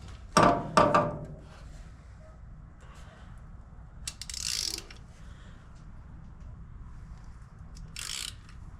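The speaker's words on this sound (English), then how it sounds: "So let me get a socket to take that off." Socket ratchet clicking as it loosens thermostat housing bolts on a 1938 Dodge engine: a couple of sharp broadband clicking bursts near the start, then scattered quieter ratcheting rasps and metallic clinks at close range, with no talking.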